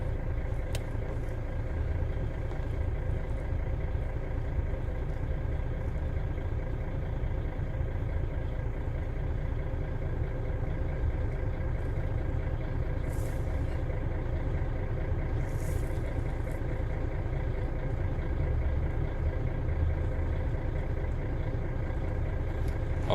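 A truck idles with its engine running while big bags are loaded onto it. A steady, low, continuous drone carries on at a moderate level, with faint occasional hisses and clanks.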